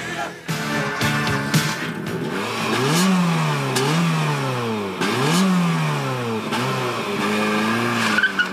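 A Suzuki Swift with a 1300 cc 16-valve multipoint-injection engine making 101 hp revs up through the gears. Two clear rising sweeps are each followed by a shift, loud and close from inside the car, and nobody speaks.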